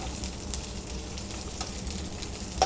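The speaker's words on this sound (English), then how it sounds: "So you don't use much oil, and you put in some onion and green and red pepper segments." Onion with green and red pepper segments fries in a little oil, giving a steady close sizzle with faint crackles throughout and no talking.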